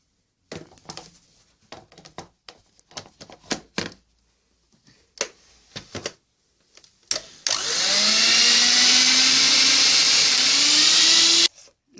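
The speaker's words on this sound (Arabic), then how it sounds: "نبتدي نضربهم تاني في العجان." An electric mixer whips chantilly cream with added strawberry jelly. A few scattered clinks and knocks come first, then the mixer starts and holds a loud, steady whir for about four seconds before stopping abruptly.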